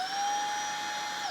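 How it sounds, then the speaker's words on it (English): A Roborock H6 stick vacuum cleaner switches on and runs with a steady, loud high-pitched motor whine, holding constant before dropping off sharply at the very end. "let's have a look and see what happens when I switch the vacuum cleaner on"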